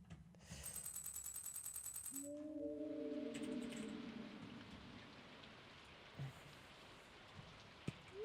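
Rain pours steadily in the Stardew Valley video game, with a rushing hiss and a low rumble of thunder, alone and moderately loud after a brief burst of other game sounds at the start.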